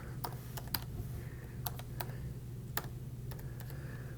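Someone types text on a computer keyboard, clusters of sharp key clicks arriving at an irregular pace, close and fairly quiet over a steady low hum.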